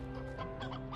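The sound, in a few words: hens clucking in the Slime Rancher video game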